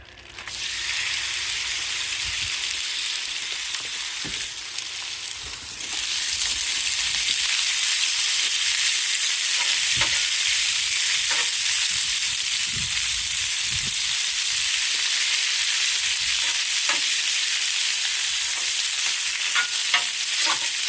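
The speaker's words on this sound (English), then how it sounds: "We're gonna put this on the grill, and we're gonna get this good and cooked" Seasoned chicken sizzles loudly on a hot hibachi griddle as a continuous hissing fry that swells after a few seconds and stays steady, close-up and with no talking.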